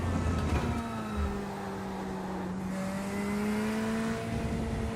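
A GT3 race car engine in the iRacing sim drones steadily with a sustained tonal hum whose pitch rises and falls gently through gear and throttle changes, moderately loud and unbroken, with no talking.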